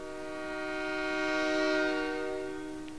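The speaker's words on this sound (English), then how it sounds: "Train!" A train horn in a Breath of Fire: Dragon Quarter cutscene blares as one long, sustained chord. It swells to a peak midway through, then eases off as the train passes, with no talk over it.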